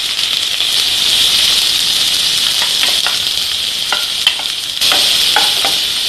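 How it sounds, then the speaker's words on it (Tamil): Onions sauté in hot oil in a pan, a loud, steady close-up sizzle with occasional clicks and scrapes from stirring. "வெங்காயம் நல்லா செவந்து வரட்டும் நல்லா வதக்கலாம்"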